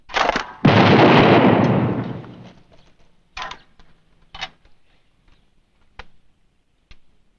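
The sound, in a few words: gunshots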